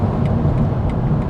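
A 2020 BMW M550i V8 with active sound design switched off gives only a steady, subdued low drone from the cabin, with no throaty exhaust rumble.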